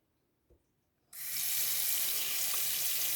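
Tap water rushes into a sink while a turkey is washed: after a quiet start and one soft knock, a loud, steady hiss of running water begins and continues without a break.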